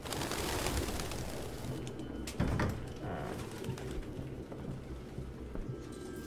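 Faint pigeon coos drift through a rundown room in the Detroit: Become Human video game, low and intermittent beneath ambient noise, with a brief knock partway through.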